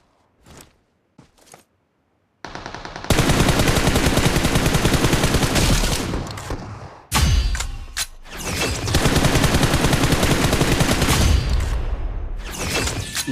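Rapid automatic gunfire in the mobile battle-royale game BGMI, loud sustained bursts with brief pauses between volleys, preceded by a few short isolated shots.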